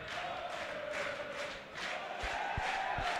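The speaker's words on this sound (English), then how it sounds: "Crowd making themselves heard here at the Rizal Memorial Football Stadium." Crowd at Rizal Memorial Football Stadium during a Philippines versus Tajikistan football qualifier, a steady distant roar with rhythmic chanting swells and a few drum thumps, no talk.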